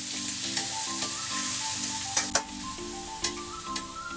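Meat sizzles and browns in a hot pan for adobo, with a steady frying hiss, a low background hum and several sharp utensil clacks from stirring.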